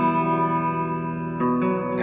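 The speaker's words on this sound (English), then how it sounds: "lots of reverb." Sustained electric guitar chord ringing out under heavy reverb, with a second chord struck near the end, washy and spacious.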